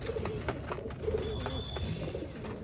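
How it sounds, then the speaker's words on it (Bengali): A single newly arrived pigeon with green mantle coloring coos softly at home during feeding time, a few low, rolling calls close by over quiet background hiss. "একটা পায়রা নামালাম, পায়রাটা তোমাদের দেখাচ্ছি"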